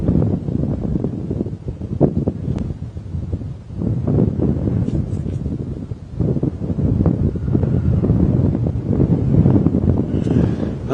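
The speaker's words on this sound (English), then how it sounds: "gusting wind" Strong gusting wind buffets the microphone on an early-morning safari drive through open bush, a steady low rumble swelling and easing in long gusts with no talking.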